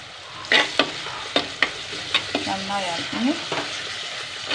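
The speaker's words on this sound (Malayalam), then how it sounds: "കറിവേപ്പില ഇട്ടേട്ടാ" Curry leaves drop into hot oil for a tamarind anchovy curry, crackling and sizzling steadily while a utensil taps and scrapes the pan in several sharp, close knocks.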